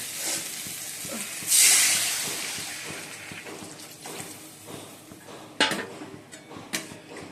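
Water hits a hot pan of fried potatoes with a sudden loud hiss that slowly fades into a softer sizzle, followed by a few sharp clinks of utensils on the pan.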